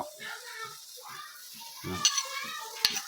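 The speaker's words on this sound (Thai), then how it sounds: "บัดนี้เขาจะเอาเนื้อของเขาลงเลยเนาะ" Beef dropped into a hot pot with a little water, giving a sizzling hiss while a voice talks over it, with a few sharp clinks of utensils against the pot.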